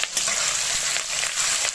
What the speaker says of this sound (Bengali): কোচানো পেঁয়াজটা দিয়ে ভালো করে ভেজে নেব।